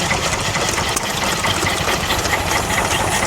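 A vintage Manco stationary engine drives a water pump at an outdoor steam fair, chugging steadily with a busy mechanical knock and clatter amid general fairground noise.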